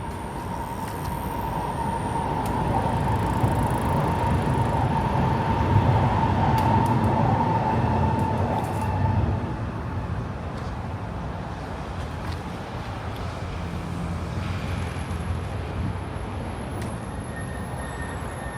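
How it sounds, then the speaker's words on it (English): A train arriving at an MRT station in Singapore rumbles steadily close by, a long continuous roar with a sustained tonal whine that eases partway through, no voices. "just in time to see a train coming in"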